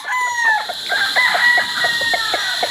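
A wine red, white-legged Dan Gray round head rooster crows loudly and close, its strained call stretched over a run of rapid clucking pulses.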